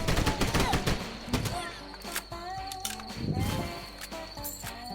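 Video game gunfire in Swamp Attack: rapid, loud shots and bursts crack repeatedly in close succession, dense at the start and flaring again near the middle.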